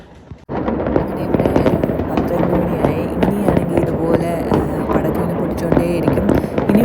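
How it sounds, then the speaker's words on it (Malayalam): Firecrackers burst rapidly and loudly during Chinese New Year in China, a dense, continuous barrage of cracks and pops after a brief quiet start. "പടക്കം മുഴുകുന്ന സൗണ്ടുകൾ ഇങ്ങനെ കേട്ടോണ്ടേയിരിക്കും"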